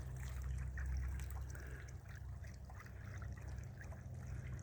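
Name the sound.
water pump trickling water for chickens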